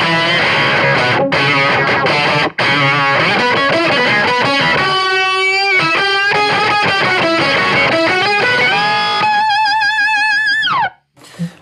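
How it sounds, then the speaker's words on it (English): A Soundblox Pro Multiwave octave distortion pedal on electric guitar plays a loud, continuous run of fuzzy, buzzing octave-doubled notes and chords with shifting, synth-like timbre. A brief gap falls near the start before the sound cuts off abruptly at the end. "obviously this is an octave distortion"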